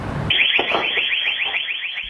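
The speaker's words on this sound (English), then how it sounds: "the security alarms blared at the Quality Computer Systems on Riverside Drive" A security alarm blares inside a computer shop, a loud shrill electronic tone warbling in rapid repeated pulses, steady and close after a brief moment of quieter background.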